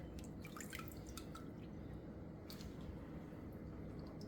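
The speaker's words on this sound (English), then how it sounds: "And I'm going to rinse these off quick." Dyed items are quickly rinsed off under running water, with soft drips and splashes over a steady background wash, close and fairly quiet.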